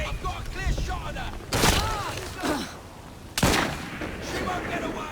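Gunfire in Assassin's Creed Syndicate, two loud sharp blasts several seconds apart amid game noise and shouting voices.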